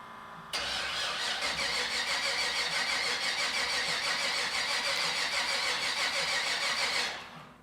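A 1968 Chevy C10 engine cranks continuously for several seconds, a loud, even, rapid starter churn heard close up, stopping without catching.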